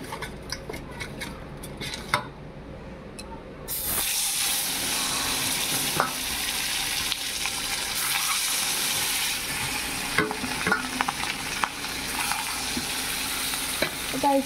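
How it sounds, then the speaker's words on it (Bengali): Eggs fry in a hot pan, a steady dense sizzle that starts suddenly after a few light clinks and scrapes of utensils, then carries on loud and close with occasional small taps, no talking. "তো গাইস আমি এখন ডিমগুলি ভেজে নেব।"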